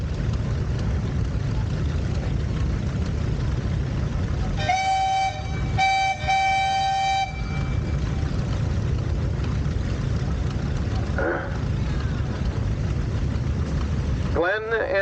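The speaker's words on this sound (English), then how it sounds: "Glenn and Linda driving a 1909 Case steam tractor, rated at 9 horsepower, 30 horsepower on the pulley" A 1909 Case steam tractor, rated at 9 horsepower, runs steadily while pulling a water wagon. Its churning mechanical noise is broken by two short, loud whistle blasts midway, and brief voices are heard near the end.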